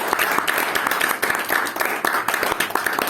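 An audience at an evening Toastmasters club meeting in Brunei claps continuously and fairly loudly for about three seconds, a dense patter of many hands with brief dips in intensity.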